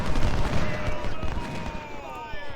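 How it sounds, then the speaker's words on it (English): Cannon and artillery fire in Ultimate General: Civil War during the Battle of Chancellorsville, a dense rolling barrage of booms and gunfire, loud and continuous with a voice talking over it. "Cannons!"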